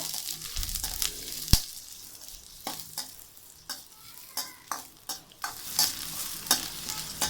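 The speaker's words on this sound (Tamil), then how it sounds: "அதில் நம்ம எடுத்து வச்சுருக்க பிரியாணி இலையும் சின்ன வெங்காயமும் போட்டு நல்லா வதக்குங்க" Bay leaf and small onions sizzle in hot oil with steady frying hiss, punctuated by repeated scraping and stirring clicks from a utensil.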